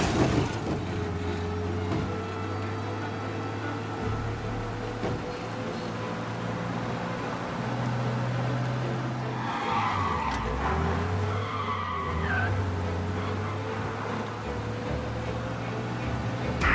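A car engine in a Mafia video game drones steadily at speed with shifting pitch and occasional tire noise, continuous and fairly loud, with no talking.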